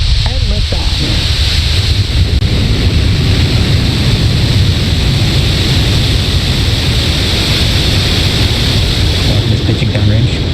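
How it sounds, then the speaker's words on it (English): Falcon 9 rocket igniting and lifting off on a Starlink launch, a loud, continuous broadband roar with deep rumble that holds steady from start to finish. "Ignition and liftoff."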